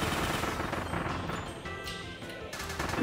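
Rapid gunfire in the Kirby and the Forgotten Land shooting gallery, a dense stream of quick cartoonish shots and impacts mixed with game music and effects at moderate loudness.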